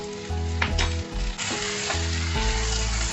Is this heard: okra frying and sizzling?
yes